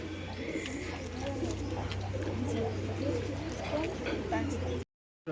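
Pigeons coo outdoors with a steady low hum underneath, soft throaty calls repeating through the scene, with faint chirps and a voice speaking briefly before a sudden cut to silence.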